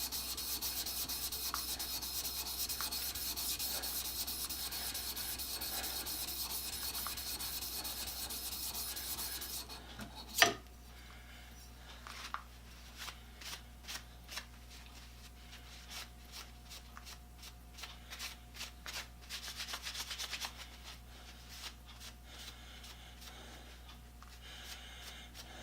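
Defiance #3 plane blade sharpened on a water stone, a long even wet rasping rub that shifts after a sharp knock into quieter, separate repeated strokes, close and steady with no voices.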